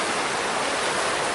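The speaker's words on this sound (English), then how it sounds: "So it's the waterfall over there," A waterfall in Rouken Glen Park gives off a steady, broad rushing hiss, loud and constant throughout, with no voices.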